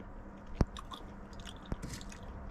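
Crispy food baked in a POP 32 camping-car oven is chewed up close, with two sharp crunchy bites about a second apart over quiet, soft chewing.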